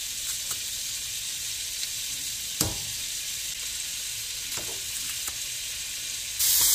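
Garlic sizzles steadily in a pan of olive oil and butter, a close, continuous frying hiss punctuated by a few soft clicks and taps, with no voices.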